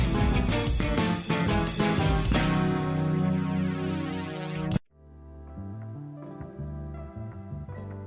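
Brass synth and polysynth layered to mimic a piano part in a J-rock track, loud full chords rising into a sweep, then cutting to a quieter, sparser synth passage with no talking.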